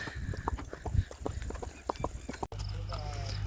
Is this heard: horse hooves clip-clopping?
yes